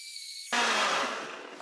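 A brief electric hum gives way abruptly to a loud, close blender whirring and churning whole tomatoes without water, steady and then slightly easing.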